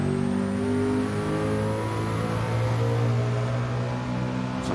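A race car engine in Gran Turismo, driven with a G29 wheel in VR, holds a steady loud mid-range drone under eased-in throttle, its tone rising and falling slightly without a break for the whole stretch.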